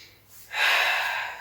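A single long, breathy exhale hisses out close to the microphone after a soft inhale, paced like controlled breathing during an advanced Pilates mat exercise.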